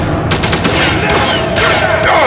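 Rapid bursts of automatic gunfire from the video game Deus Ex: The Fall crack loud and close in quick rattling volleys, dense and sharp with no gaps for talk.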